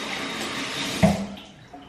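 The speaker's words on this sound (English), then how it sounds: "Let me once again wash my hands." Hands being washed under a running tap before a hair treatment procedure, a steady close stream of water with a brief splashing bump as the hands move, heard alone.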